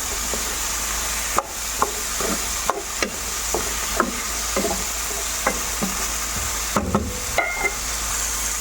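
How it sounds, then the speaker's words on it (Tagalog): Chicken feet seasoned with fish sauce and pepper are stirred in a hot pan, with a steady sizzle and a dozen or so irregular scraping knocks of the utensil against the pan. "imikos-mikos muna yan guys"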